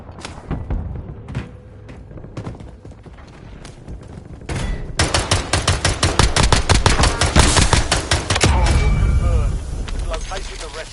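Automatic gunfire in the shooter game Warzone: a few scattered shots, then a long, loud, rapid sustained burst of machine-gun fire, with game voice callouts over the battle.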